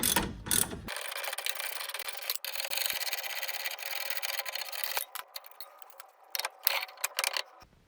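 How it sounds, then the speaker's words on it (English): A ratchet turns out a strut bolt on a 1994-2004 Ford Mustang front suspension, giving a steady, fairly quiet run of clicking and rubbing that breaks into sparser, uneven clicks near the end. "Now I'm going to remove that second bolt to take the strut out."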